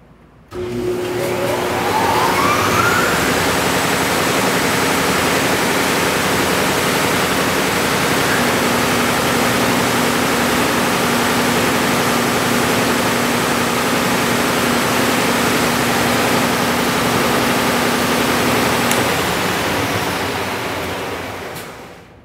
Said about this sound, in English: We're going to go ahead and turn this machine on real fast so you can see it running.